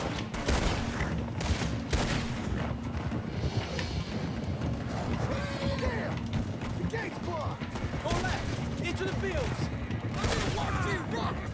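Shots ring out in the Western video game Red Dead Redemption 2 during a horse heist, scattered gunfire mixed with galloping hooves and wagon noise in a busy outdoor fight, with voices talking over it.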